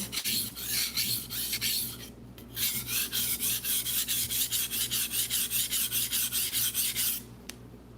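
A kitchen knife is drawn repeatedly across a sharpening stone, close and loud, in fast regular rasping strokes with two brief pauses between runs and no voices.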